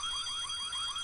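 Several alarms blare at once in a video game, a loud continuous wailing with repeating rising sweeps and steady high tones running through the whole moment, no voices over it.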